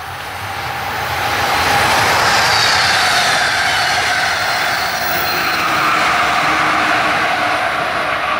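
Steam locomotive Strasburg 90 pulls out of the station, rumbling and rolling along, building to a loud, steady roar of wheels and engine noise that carries on without pause.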